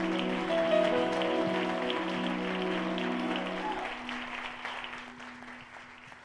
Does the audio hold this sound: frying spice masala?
no